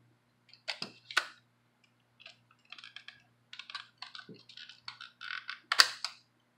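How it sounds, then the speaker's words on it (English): Single key presses on a computer keyboard during a PC BIOS CMOS checksum error fix, a scattered series of sharp, close clicks and taps with a couple of louder strikes, no talking. "So from here we need to press F10,"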